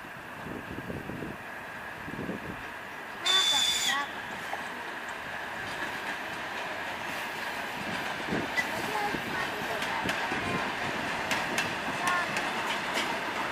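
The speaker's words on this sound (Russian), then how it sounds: "Электричка." An electric commuter train rumbles past with a steady rolling roar and a brief high squeal, wind buffeting the microphone throughout.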